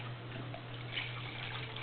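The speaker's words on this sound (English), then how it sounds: "I put a little bit of water in this cup here, and it's just going to add some water here and there." Water is poured from a cup in a quiet, brief trickle with soft splashing and dripping during work on a Mylar electrostatic telescope, under a low steady hum.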